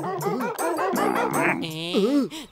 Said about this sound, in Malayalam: Meet R police dog constable ബോസോ.